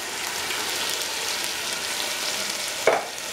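Canned diced tomatoes go into a hot pan of shrimp and garlic for Creole shrimp, with a continuous soft frying hiss and one brief clunk near the end, with no voices.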